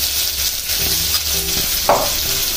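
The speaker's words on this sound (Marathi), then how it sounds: "ह्याला देखील तेल तुपात चांगलं परतून घेते" Green paste frying in oil and ghee, a steady close sizzle with stirring scrapes and one brief louder spatter near the end.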